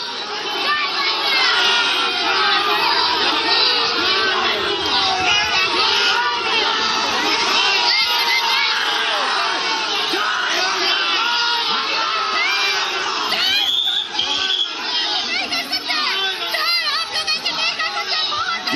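A dense crowd of protesters at a Bengal election protest shouts slogans together, loud and sustained with overlapping voices, cheers and whoops throughout.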